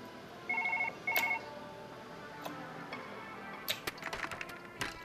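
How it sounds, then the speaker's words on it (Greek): A telephone rings with two short electronic bursts near the start, followed by scattered faint clicks and light rattles in a quiet room. "Λοιπόν, χτυπάει το τηλέφωνο."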